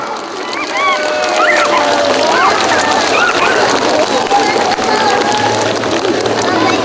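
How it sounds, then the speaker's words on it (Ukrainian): A crowd at a town anniversary celebration applauds an honoree, a loud continuous wash of clapping mixed with cheering voices and chatter, filling the whole stretch. "Давайте разом дружними оплесками привітаємо Миколу Миколаївича Лилака."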